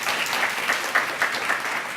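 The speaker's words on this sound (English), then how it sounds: "Can we give Mr. Anderson a round of applause?" An audience gives a steady round of applause at an event with a guest speaker, dense and continuous clapping filling the whole stretch at an even level.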